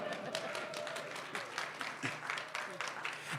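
Audience applause at an interview event comes in quick, scattered claps at moderate volume, fairly close, continuing under talking voices.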